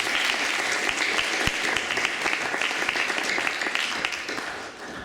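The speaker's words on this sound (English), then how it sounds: "Let's give them a round of applause." Loud, steady applause from an audience at a school sports colours awards ceremony, many hands clapping in a dense continuous wash with a few sharper individual claps standing out, easing slightly toward the end.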